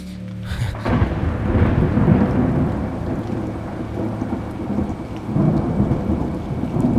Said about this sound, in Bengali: বাইরে বৃষ্টির একটানা ঝিরঝির শব্দ।